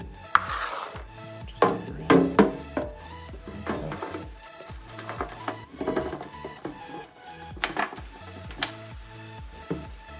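Coconut fiber substrate gets stirred inside a tarantula enclosure, a run of irregular scraping, rustling and knocking strokes at close range with no voices.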